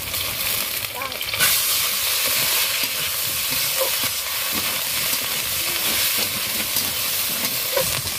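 Ginger garlic paste frying with potatoes and onions in a pan, a steady loud sizzle and hiss with occasional stirring scrapes throughout.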